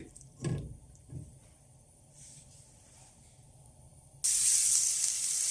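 An Afghani omelet frying in a pan, a few soft thumps and then a loud, bright, steady sizzle that starts abruptly near the end and carries on close and continuous.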